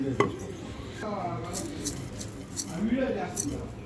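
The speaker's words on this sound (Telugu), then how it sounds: "చూడండి ఫ్రెండ్స్, ఇలా అయితే దంచేసుకోవాలి" Irregular thuds and scrapes of raw mango chutney being pounded with salt in a stone mortar, close and moderately loud, while someone talks over the work.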